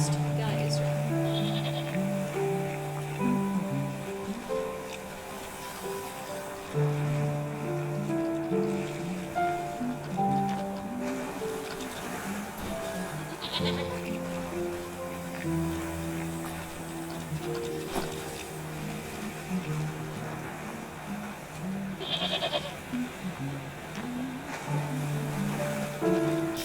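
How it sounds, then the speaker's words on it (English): Goats bleating in the video game Wytchwood, repeated wavering bleats scattered over a continuous musical and ambient game backdrop, moderately loud and steady throughout. "the plump bodies of braying goats clogging up the small geysers"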